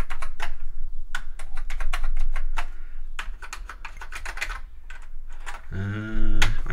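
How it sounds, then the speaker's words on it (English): Keys being pressed on an Atari 1040 STF keyboard, including Alt and arrow keys: close, irregular clacky keystrokes with uneven pauses between them, ending in a short harmonic beep. "we can use the Alt key and the arrow keys."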